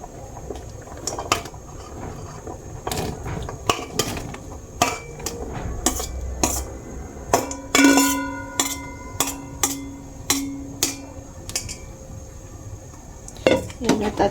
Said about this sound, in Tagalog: Yan at ating haluin.